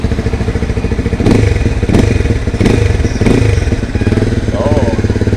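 A Rusi Flash 150X FI motorcycle engine idles close with a steady, throbbing beat. It is given several quick blips of the throttle that rise and fall in repeated revs.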